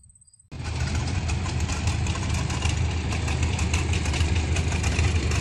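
Old-school engines at the Georgian Bay Steam Engine Show rumble into life after a quiet moment, then hold a steady, loud, close chugging run with a rhythmic beat.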